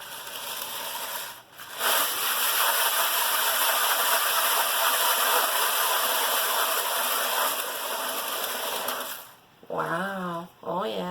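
A spinner whirs loudly and steadily for several seconds, spinning a colander paint pour, starting and stopping abruptly, with a person talking briefly at the end.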